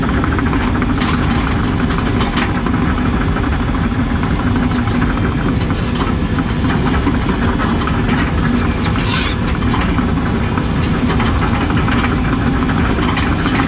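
An excavator with a thumb tracks across a retaining-wall building site, its heavy engine droning and tracks rumbling loudly and continuously close by, with no speech.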